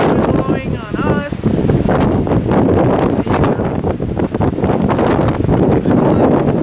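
Strong gusty wind after Hurricane Irma, loud rushing wind and microphone buffeting close up with rustling trees, and people talking under the roar.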